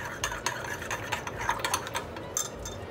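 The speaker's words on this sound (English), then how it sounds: "Give that a quick stir." A spoon gives a quick, light stir to a honey and water mixture for pizza dough yeast, producing faint, rapid clinks and scrapes against the container.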